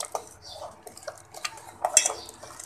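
A spoon scrapes and clinks against a metal pot as custard mixture is stirred quickly, light irregular taps and scrapes, close and fairly quiet.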